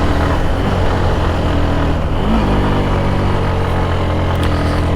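Motorbike engine straining up a steep hill in low gear, near Bogalake toward Keokradong, a loud continuous labouring drone with a brief dip in pitch midway.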